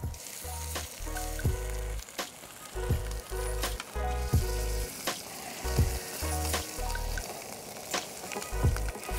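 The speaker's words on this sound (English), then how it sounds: "you're sitting here frying up a fish like this that you just caught." Freshly caught fish frying in a pan outdoors, a steady sizzle with bursts of crackling and spatter, repeated low thumps as it is moved or stirred, fairly faint and close.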